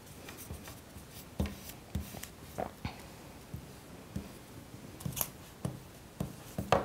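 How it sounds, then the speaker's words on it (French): An eraser scrubs pencil marks off a paper cutout, making short scratchy rubbing strokes in an irregular rhythm, close and fairly quiet. "je passe un petit coup de gomme pour l'effacer"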